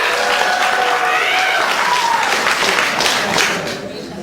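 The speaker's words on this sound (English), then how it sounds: "I want you guys to just clap or just shout out so we know." A conference audience at an aortic dissection lecture bursts into loud, sustained applause mixed with shouts and whoops, the dense clapping filling the room for several seconds before easing slightly at the end.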